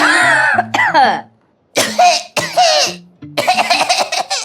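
Close, loud bursts of coughing and throat-clearing in short fits, separated by brief pauses and mixed with laughter-like voicing.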